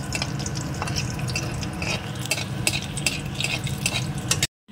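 Cutlet kebabs frying in a pan, a continuous close sizzle with crackling spatters and bursts of stirring, cutting off abruptly just before the end.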